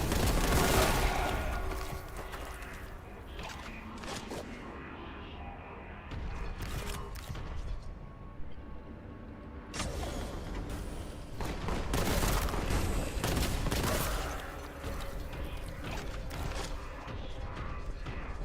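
Boltgun firing in the game Boltgun, loud rapid bursts of heavy gunfire with mechanical clanks and explosions, intense and dense with brief lulls between volleys.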